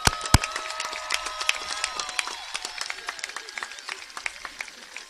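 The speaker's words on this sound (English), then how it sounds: "if everybody would love to give them one more round of applause" Scattered claps from a graduation ceremony audience for the class of 2021, sparse and uneven sharp hits spread across the room, fairly quiet with a few louder nearby claps.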